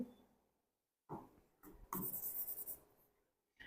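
Chalk or marker writing on a board during a geography lesson, a few short scratchy strokes after a brief silence, close and clear with no talk.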